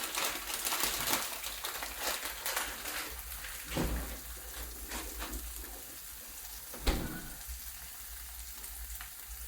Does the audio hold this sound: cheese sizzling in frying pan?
yes